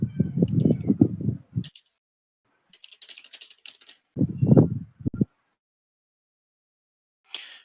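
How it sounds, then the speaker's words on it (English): Fingers tap out bursts of typing on a computer keyboard, close and clicky, with short runs of keystrokes separated by pauses of near silence. "I'm just typing this up now."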